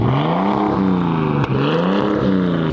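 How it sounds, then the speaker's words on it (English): A Japanese-market car freshly fitted with a new turbo revs loud and close, its engine note rising and falling in steady harmonic sweeps with a brief dip midway. "Wayne's going to give it a rev."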